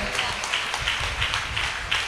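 A church congregation claps in praise during a worship service, a dense, fairly even rhythm of many hands beating together, mixed with reverberant hall sound.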